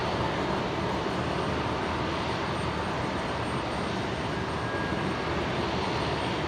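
An Air New Zealand Dreamliner jet airliner at Brisbane airport gives a steady, broad engine roar that fills the whole stretch, constant and unbroken with no voices.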